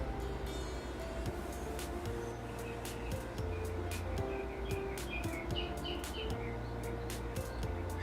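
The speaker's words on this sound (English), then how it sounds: "Wow, the birds are freaking loud." Loud birds chirp outdoors with dense, repeated calls, sharp high notes recurring throughout, over a steady low rumbling background.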